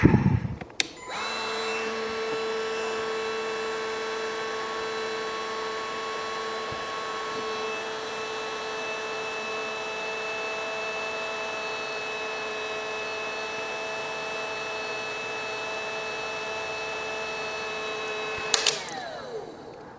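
Dewalt 20V compact heat gun, model DCE530B, running on high: a click starts a steady tonal fan whine that holds evenly for about seventeen seconds before a click and a quick stop, close up with no voices.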